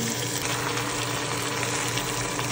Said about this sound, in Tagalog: Once ganyan na yung itsura ng ating ginigisa na bawang at sibuyas, ilalagay na natin yung ating ribs.